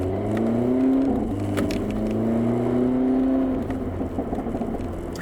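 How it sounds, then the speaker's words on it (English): A 2022 Hyundai Elantra N with a dual-clutch transmission drones loudly from close by, its engine note rising and falling through revs with a rumbling exhaust underneath, steady and continuous with no talk. "Nice exhaust burbles."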